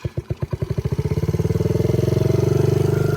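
A Yamaha YFZ 50 quad engine starts with a few separate putts that quickly run together into a fast, even, high idle, close and loud, holding its revs steadily.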